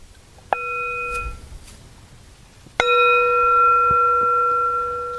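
A bell is struck twice in a quiet studio setting, each strike a clear ringing tone that lingers, the second louder and longer with a sustained metallic shimmer, no voices alongside.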